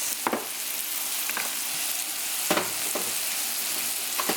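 Salt-and-peppered meat sizzling in a hot pan, a continuous hiss broken by a few sharp spatters and scrapes at irregular intervals, fairly close and with no one talking.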